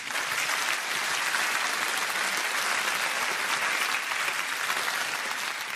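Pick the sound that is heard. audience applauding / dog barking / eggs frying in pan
audience applauding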